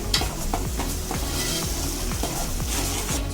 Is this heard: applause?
no